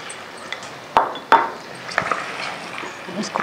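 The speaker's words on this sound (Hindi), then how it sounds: "अभी मैं मिक्स कर रही हूँ।" A utensil knocks and scrapes against a cooking pot while mutton masala with onions is mixed, two sharp clacks near the start followed by softer scraping, close and moderately loud.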